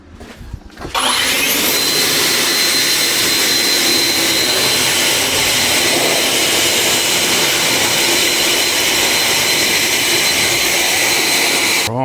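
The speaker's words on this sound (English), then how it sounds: "I'll just go and get my blower" A leaf blower starts with a sharp burst after a brief quiet moment, then roars loud, steady and close for the rest of the clip, a broadband whine with no talk over it, during storm prep on a leaky shade roof.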